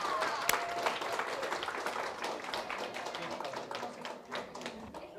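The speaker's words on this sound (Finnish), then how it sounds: "annetaan aivan valtavan suuret aplodit" An audience at a youth event in Finland gives steady applause, a dense crackle of many hands with a few sharper claps and faint voices under it. It stays at a moderate level throughout.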